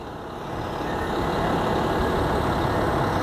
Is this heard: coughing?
no